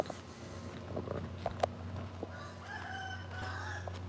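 A rooster crows outdoors among a flock of chickens, the call rising clearly over quieter clucking and low background hum, moderately close.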